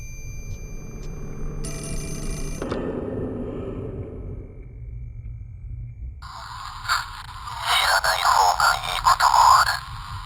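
Ringing telephone in the horror video game Fatal Frame: Mask of the Lunar Eclipse, set in a graveyard area, a bright tonal ring sounding briefly among eerie game ambience and whooshing, with no talk.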